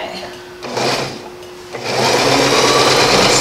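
Sewing machine stitching a 5/8 inch seam, its motor whirring in short bursts and then running steadily and loudly toward the end, with a person talking around it.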